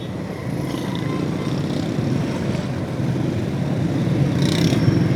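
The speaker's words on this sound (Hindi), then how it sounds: "यहाँ हुआ है ट्रैफिक जाम थोड़ा।" Road traffic idles and crawls through a jam on University Road in Karachi, a dense steady rumble of engines heard from a motorbike, with passing vehicles swelling briefly and no talk.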